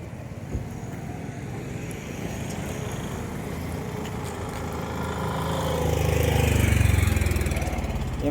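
A tempo truck from Madhya Pradesh idles on a flyover, its low steady engine rumble close and continuous, swelling slightly louder toward the end.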